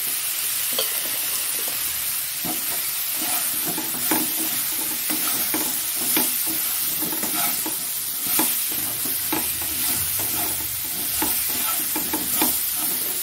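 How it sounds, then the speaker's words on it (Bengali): Potato, papaya and green chili fry in a pan with a steady loud sizzle while a utensil scrapes and stirs in irregular knocks throughout, with no voices. "এই সবজিগুলো দিয়ে দেবো, আলু, পেঁপে, কাঁচা লঙ্কা আছে চিড়ে"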